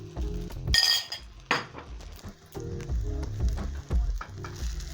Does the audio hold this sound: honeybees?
no